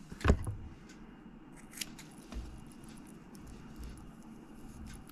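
Scissors snip through small pieces of lace, a sharp close cut at the start followed by fainter, sparse clicks and rustling over a quiet background.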